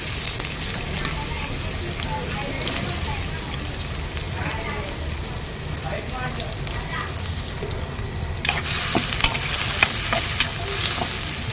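Onion sizzles in hot oil in a pan, a loud, dense, continuous crackling hiss that steps up briefly near the end, with stirring scrapes and a voice faintly beneath.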